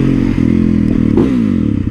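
A supermoto motorcycle engine runs loud and steady while riding, its low harmonic drone rising and falling in pitch as the throttle shifts, with a brief clatter partway through.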